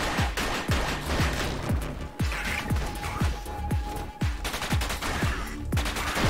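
Small gun firing in the sci-fi roguelite Orbital Bullet: rapid, steady volleys of punchy shots over dense game noise and effects, continuous and loud throughout.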